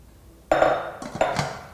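A metal lid set onto a stainless steel pan of freshly boiled water poured over plant leaves gives a sharp clank, then a second lighter rattle of metal on metal as it settles, close and alone.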